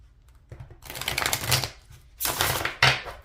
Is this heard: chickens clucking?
no